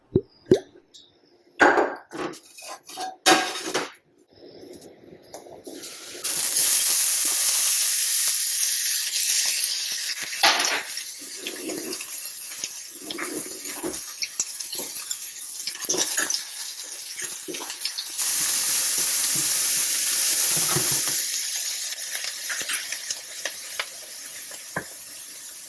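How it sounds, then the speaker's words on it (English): Onions sautéing in olive oil in a pan, with tomato added, give a steady loud sizzle and hiss that starts after a few seconds of clattering, plops and handling noises, rising and easing through the rest of the clip. "So I'll be sauteing this in olive oil."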